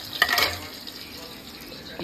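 Koi fish frying in oil in a pan, a soft sizzle and stirring scrape with a brief louder burst at the start, then a quieter steady hiss.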